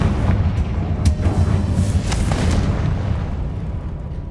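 Confringo fire spells explode in Hogwarts Legacy, several sharp blasts in quick succession over a heavy continuous rumble, loud and close, then settling into a fading roar.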